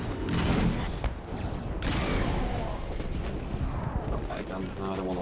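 Rapid, heavy gunfire in the Saints Row IV video game: dense overlapping bursts and blasts fill the whole stretch loudly, with a voice talking over the shooting at times.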